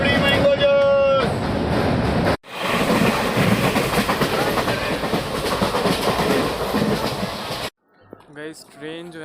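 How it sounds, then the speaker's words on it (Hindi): A Ballia–Sealdah Express train rolls on the rails in India, heard from inside as a loud, steady rumble and rattle with a brief dropout, and a voice speaks near the end. "गाइस ट्रेन जो है ना वो 20 मिनट बिफोर चल रही है।"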